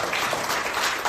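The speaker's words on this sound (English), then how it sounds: "All right, everybody, let's give Tricia a big round of applause" Audience applause at a tech talk event, a dense continuous wash of many hands clapping at steady loudness throughout, with no voices over it.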